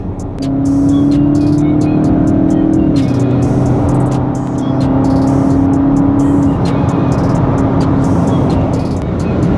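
Volkswagen MK8 GTI fitted with an APR air intake accelerating with the windows down, a loud, steady engine drone rising in pitch under strong hard-throttle pull with no talk.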